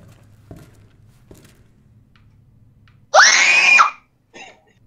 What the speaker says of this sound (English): It was a scream.